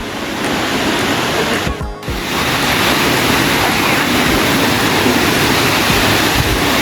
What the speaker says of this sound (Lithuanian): Artėjam prie gero kriokliuko.